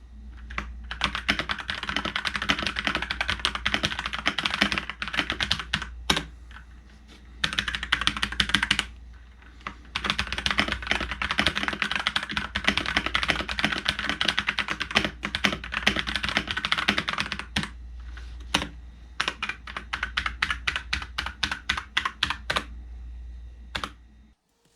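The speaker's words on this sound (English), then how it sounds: "In terms of how the keyboard sounds, I will go ahead and give you a sound test really quick." A Redragon S136 mechanical keyboard is typed on steadily up close, with rapid, slightly hollow plastic clacks in long runs broken by short pauses and a few spaced final keystrokes, with no talking.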